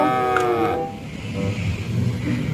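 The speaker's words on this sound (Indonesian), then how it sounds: "Wah, yang ini ada hewan kerbau." A toy lowing like a water buffalo, one drawn-out electronic moo that fades into a steady background hum.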